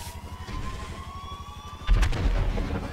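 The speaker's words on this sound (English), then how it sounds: "I just hear a lot of explosions." Steady low rumbling battle noise in the video game Grand Theft Auto V with distant thuds, then a louder, closer explosion bursts in near the end and keeps booming.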